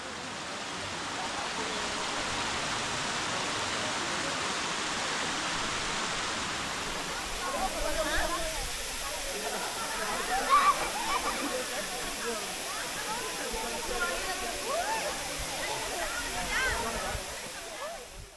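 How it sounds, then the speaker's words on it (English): A horseshoe waterfall curtains an entire cliff and pours with a steady, full roar that holds throughout, with faint splashing texture rising a little partway through. "I also have been reading that this is a horseshoe waterfall covering the entire cliff"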